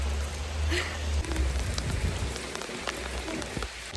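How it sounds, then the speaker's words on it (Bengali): Heavy rain pours down steadily, drops pattering densely on surfaces nearby in a constant rushing wash of sound. "প্রচুর বৃষ্টি হচ্ছে এখন।"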